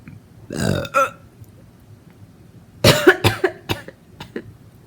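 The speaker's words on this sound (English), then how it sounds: "I'm about to burp." Two loud, close burps from a person, the first a single drawn-out belch and the second longer and broken into several rough bursts, with quiet between them and no talk.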